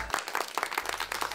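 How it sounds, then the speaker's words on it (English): An audience at a dealership launch event for a new JCB telehandler claps to welcome a speaker, a brief burst of dense, close applause. "Let's welcome him with a thunderous applause."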